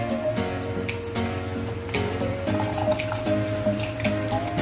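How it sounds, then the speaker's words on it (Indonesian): Boiled or ordinary drinking water poured over soaked ingredients for a coconut pandan dessert, giving continuous close dripping and trickling with small splashes. "Jadi kita siram dulu pakai air matang atau pakai air biasa yang kita minum."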